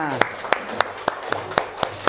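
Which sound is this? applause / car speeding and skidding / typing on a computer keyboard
applause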